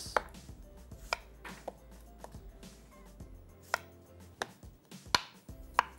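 A knife slices through medium-sized onions on a board, producing sharp, close thuds at an uneven pace, about a dozen cuts with brief gaps between them and no talking.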